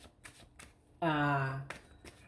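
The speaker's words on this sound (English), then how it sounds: "Let me shuffle some more" Tarot cards are shuffled by hand in quick papery bursts near and fairly quiet, broken in the middle by a sustained hummed vocal tone.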